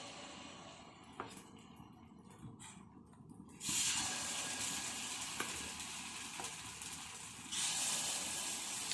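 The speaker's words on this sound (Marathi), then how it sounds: "आप्पे पॅन चांगलं गरम करून घेतलेलं आहे आणि आता आपण त्याच्यामध्ये बॅटर पोर करणार आहोत" Rawa appe batter with vegetables poured into a hot appe pan, a steady soft hiss and sizzle that jumps louder twice as fresh batter hits the cavities, with faint clinks in between.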